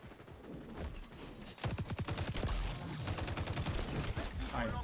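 Rapid automatic rifle fire in the shooter game XDefiant, a tight rattling burst of close shots that starts abruptly after a brief lull and keeps going, with a voice talking underneath.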